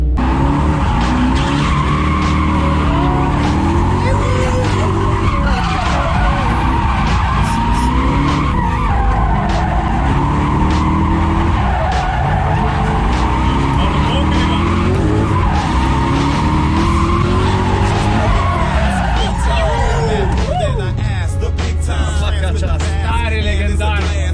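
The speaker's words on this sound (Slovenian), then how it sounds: "čakamo rally avto, da poskuši svoje 2 kroga" A rally car skids around a track at a demo day, with tire squeal and a revving, fluctuating engine that rises and falls throughout, loud and close, with occasional faint voices underneath.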